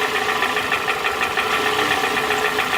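A Toyota Camry engine idling rough with one cylinder's ignition coil pulled, giving a steady mid-pitched drone with an uneven, knocking pulse running throughout, close and continuous.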